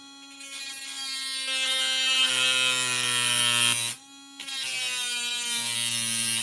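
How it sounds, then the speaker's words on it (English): A Dremel rotary tool grinds a stainless steel screw with a loud, high whine that drops briefly as the bit pauses, then resumes grinding at full speed. "This stainless steel screw is going to kill my... It's very hard to Dremel."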